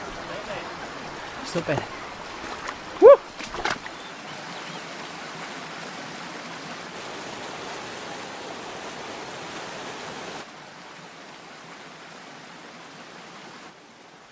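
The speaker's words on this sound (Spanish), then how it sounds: "Ahí está el río" A river rushes steadily inside a cave, a broad constant wash of flowing water heard close, with a few brief voices and knocks near the start before the flow continues alone and slightly quieter toward the end.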